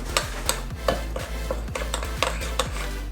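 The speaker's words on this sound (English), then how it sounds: "Mix this stuff up" A spoon works meatloaf topping around a bowl in quick, regular strokes, each one a soft scrape with a light clink. The sound is close and moderate with no talking.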